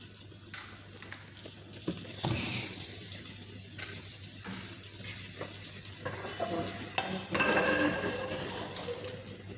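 Potatoes and beans frying together in a pan as the last of their water cooks off, a steady sizzle with occasional stirring scrapes and utensil clinks, louder bursts of hissing toward the end.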